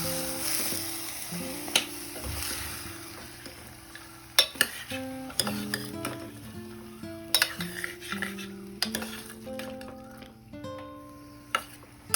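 Dal, rice and vegetables sizzle in a pan while a utensil stirs and scrapes, with scattered metallic clinks and knocks against the cookware.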